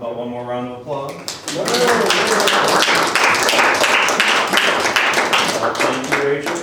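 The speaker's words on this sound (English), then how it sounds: "applause." Applause from an audience at a museum presentation on mourning dress, sustained dense clapping that fills the room after a brief moment of speech at the start, fading slightly at the end.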